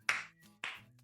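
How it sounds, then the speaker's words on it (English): Two crisp hand claps, close and fairly quiet, spaced about half a second apart with a brief ring after each. "If you're happy and you know it, clap your hands."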